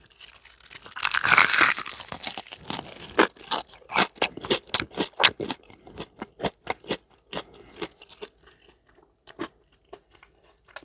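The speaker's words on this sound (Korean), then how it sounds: "바삭 소리 들리나요?" Loud, close crunching bites into a crispy fried chicken wing, a rapid series of sharp crackles followed by slower chewing crunches that fade out.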